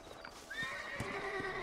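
A horse in Red Dead Redemption whinnies in a long rising neigh while hooves clop a few times underneath, close and moderately loud.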